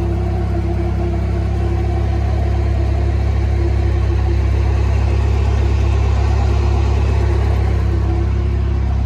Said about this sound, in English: I still got the exhaust leak in my manifold. It's like louder than my actual exhaust now.